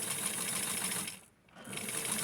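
A sewing machine stitches a small vintage Barbie bathing suit, a fast steady whir that stops briefly midway and then starts again, close and fairly quiet.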